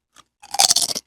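Crunchy spicy bean snacks called crunchers are bitten and chewed close up in a short, loud burst of crackling crunches after a faint first bite.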